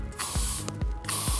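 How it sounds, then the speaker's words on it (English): Light hold hair spray hissing from an aerosol can in three separate bursts during hair styling, each spray short and close with brief pauses between. "I'm just using a very light hold spray."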